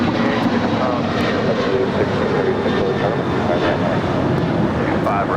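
An Alaska Airlines Boeing 737-900ER jet roars on departure from LAX, a broad, steady, loud engine rush that holds throughout.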